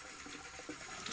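Water runs and splashes briefly while shaving soap is rinsed off a freshly wet-shaved head, a soft close trickle heard alone.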